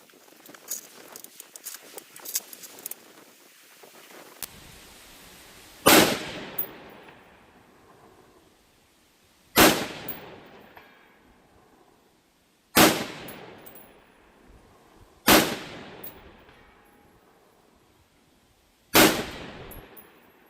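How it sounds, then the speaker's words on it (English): Rifle shots fired at a 500-yard target using a red dot sight, five sharp loud cracks spaced a few seconds apart, each trailing a short ringing decay outdoors, with faint handling clicks before the first shot. "I can make 500 yard shots with a magnifier on there"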